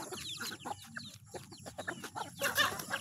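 Several chickens clucking in quick, irregular bursts, close by, with short cackles rising over a low background.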